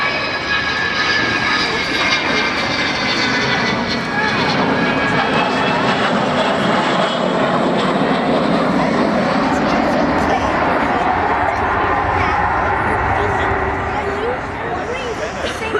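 The Avro Vulcan XH558 bomber flies at an airshow, its jet engines producing a loud, continuous roar with a rising howl that fills the whole stretch, while a commentator talks over it.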